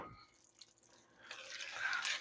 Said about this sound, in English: I'm going to add the rest of the beans to this one.